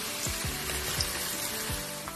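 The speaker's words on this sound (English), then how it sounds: "starting off with frying 2 sliced onions" Soft, steady sizzling of two sliced onions frying in a pan with beef mince, a low crackling hiss with occasional faint pops, quiet and continuous.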